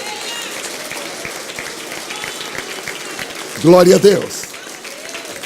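Steady applause from a church congregation fills the room, while someone speaks loudly over it for a moment near the end.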